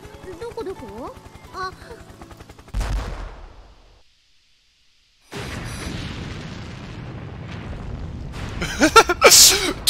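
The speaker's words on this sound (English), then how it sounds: "Whoa! That's a big explosion!" A big explosion goes off in the video game The Fruit of Grisaia: a sudden loud boom after game music and a gap of silence, followed by sustained rumbling blast noise that swells again near the end.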